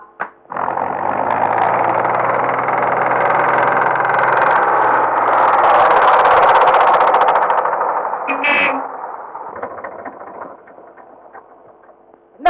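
A troublesome old vehicle in a Tamil film scene runs with a steady mechanical whirring, loud and close for several seconds, then fades out before a brief clunk.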